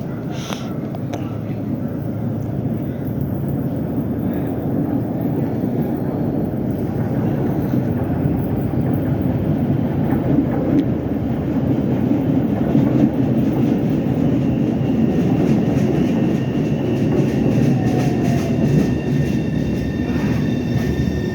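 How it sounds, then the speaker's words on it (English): An inbound Orange Line subway train rolls past at Roxbury, a steady, loud rumble of wheels on rail that holds for the whole stretch, with faint clatter and brief high squeals over it. "So the first inbound train's coming now."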